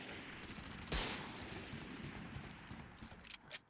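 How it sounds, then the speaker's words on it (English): Sniper rifle fire in a Valorant match, a single sharp crack standing out early, followed by scattered fainter shots and game noise, fairly quiet overall. "The snipers are ripping."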